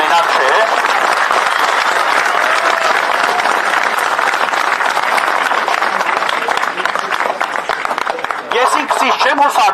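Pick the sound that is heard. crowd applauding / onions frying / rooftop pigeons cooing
crowd applauding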